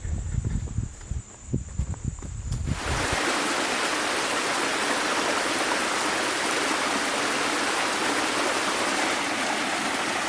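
A small water cascade on the Narragansett Trail rushes in a dense, steady, close wash. It follows a few seconds of quieter outdoor sound with light footsteps.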